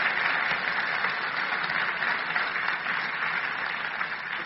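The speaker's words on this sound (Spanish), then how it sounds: "Un aplauso al Rey de Reyes." Sustained applause from a church congregation during a Spanish-language Christian sermon, a steady dense wash of clapping that stays loud and even throughout.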